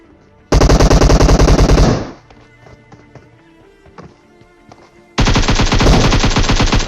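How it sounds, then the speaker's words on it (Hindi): Loud automatic gunfire fills a battle royale shooter: a dense burst lasting over a second, a quieter stretch of scattered shots and footsteps, then another long rapid burst. "अब ये अंदर फायर किस पे कर रहा था"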